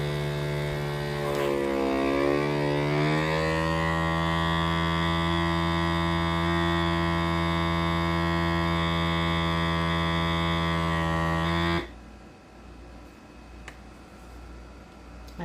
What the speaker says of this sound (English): I'm just going to hit vacuum seal.